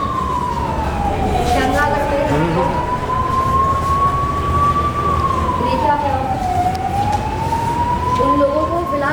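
An emergency siren wails loudly, its pitch sweeping slowly up and down, during a mock disaster drill in Faridabad with ambulances, rescue and police teams on scene, and someone talks over it.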